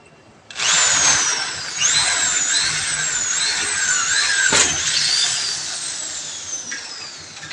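Power drill driving screws into a sliding door frame, a loud close high-pitched whine that starts abruptly and runs steadily with rising and falling motor pitch, a brief knock partway through.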